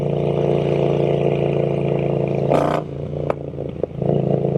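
Triumph Speed Twin 1200 with an Italian Zard exhaust pulls hard under light throttle, a steady loud twin-cylinder drone that briefly dips and surges again, with a few sharp clatters over the top.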